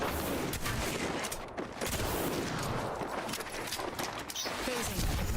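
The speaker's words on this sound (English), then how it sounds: "Getting shot at." Dense, continuous gunfire in the battle royale game Apex Legends, a loud near-constant volley of rapid shots filling the whole stretch.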